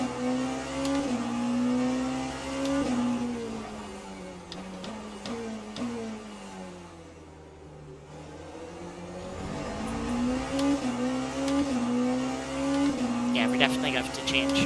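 A BMW race car engine in Le Mans Ultimate, during an endurance race at Bahrain, drones loudly and steadily. The revs dip and climb again midway, with tyre noise layered over the engine.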